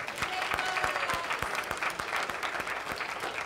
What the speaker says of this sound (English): How about a bigger round of applause for that?